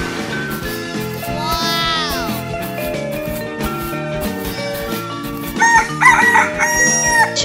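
A cartoon rooster crows once, a loud rising-and-falling call over bouncy children's music with a beat, followed by brighter musical chimes and a short exclaimed word.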